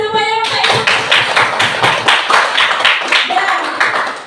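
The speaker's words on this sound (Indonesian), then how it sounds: "tepuk tangan semuanya Bapak Ibu" An audience at a school event in Bantan claps together in a loud, rhythmic pattern of about a dozen even beats, following a short tone at the start.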